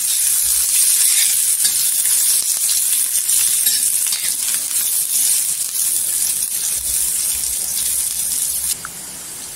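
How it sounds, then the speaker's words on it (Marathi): Garlic sautés in a spoonful of oil for a green chili and tomato thecha, a loud, close, continuous hiss that drops off abruptly near the end. "इथे 1 चमचा तेल टाकून घ्यायचं. तेलावर परतून घ्यायचं."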